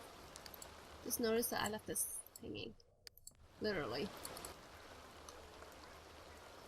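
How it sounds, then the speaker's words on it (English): Rain pours down steadily in The Sims 2 game, a dense hiss beneath someone talking over it, briefly thinning during a pause in her speech. "Can you hear that rain? It's so loud."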